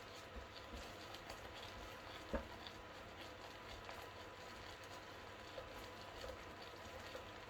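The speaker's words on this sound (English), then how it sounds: "I think if I boil it up any longer, it's going to turn into fudge." Coconut cake frosting bubbles at a boil in a pot, a soft steady fizzing and popping texture with a faint clink near the middle, quiet and close, with no speech.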